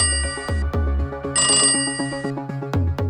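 A telephone ringback tone purrs in a regular pulsing pattern while a call to a bank waits to connect, loud and close with a brighter burst midway and no talk.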